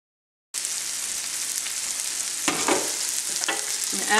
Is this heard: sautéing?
yes